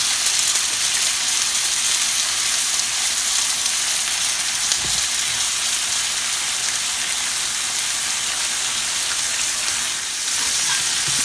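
Steak and onion fry in butter in a pan, giving a continuous even hiss of sizzling fat with a single brief knock partway through and no voices.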